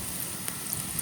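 Chopped onion and green chillies fry in soybean oil left over from frying hilsa, giving a steady, close hiss with small crackles and no talk.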